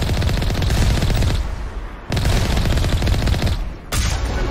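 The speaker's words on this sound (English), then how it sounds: "You just come down here, you shoot their little turrets and get to the outpost." Sustained automatic gunfire from turrets being shot in the video game Mass Effect, dense rapid bursts in two long volleys with a brief pause, then a third burst starting near the end, loud and close.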